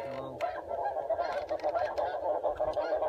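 A flock of speckle-bellied white-fronted geese honks overhead, many overlapping calls in a quick, rambling chatter that sounds fairly distant and moderately faint.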